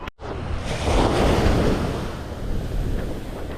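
Ocean waves on a beach at Acadia with a rising tide, a loud broad wash swelling and fading under heavy wind rumble on the microphone.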